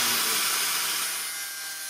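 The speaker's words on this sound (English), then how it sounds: "So now it's time to use a flat sanding disc on a backing pad" A continuous, even rasping hiss of a flat sanding disc on a backing pad grinding against wood on a giant axe build, close up, slowly fading slightly toward the end.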